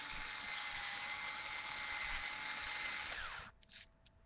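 An Ozeri electric pepper grinder runs steadily, a loud even motorized grinding whine of pepper for about three and a half seconds, then cuts off, leaving a few faint clicks.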